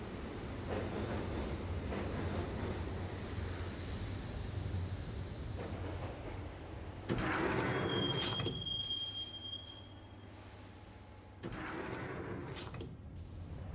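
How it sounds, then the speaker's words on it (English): A subway train in the 2001 PC game Max Payne rolls along with a steady rumble and screeching wheel squeals, punctuated by clanks and a sharp shift in noise partway through as the carriage rattles on. "the train doors had already shut behind me, and I was in for the ride"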